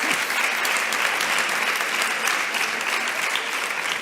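Applause from a congress audience for the speakers at a round table on procedural law, steady dense clapping throughout.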